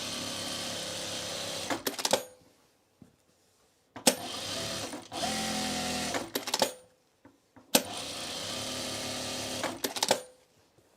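Short bursts of a sewing machine stitching a fabric bowl cozy from dart to dart, three rapid runs ending in sharp clatters, with near-silent gaps between them.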